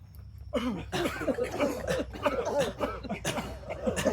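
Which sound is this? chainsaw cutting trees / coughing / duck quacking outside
coughing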